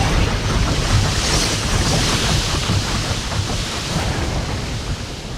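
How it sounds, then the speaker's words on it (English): Water pouring in within the PC game Riven makes a loud, continuous rushing wash, broad and roaring like surf, holding steady throughout with no voices over it. "So that opens this up and it puts water in here."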